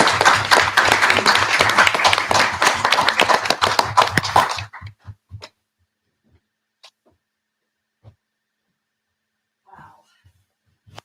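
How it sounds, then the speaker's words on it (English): An audience at a book-launch celebration gives loud, full applause for about four seconds. It then trails off into a few scattered claps and near silence. "can we just have another big clap for everybody"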